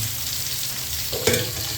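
Onion frying alongside fish in a pan produces a brief, continuous close sizzle, with a slight stirring bump near the end and no voices.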